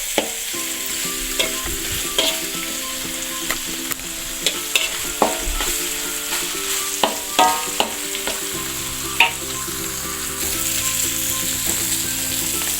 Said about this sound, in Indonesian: kita tumis hingga harum.